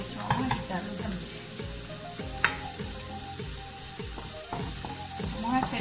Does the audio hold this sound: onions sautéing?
yes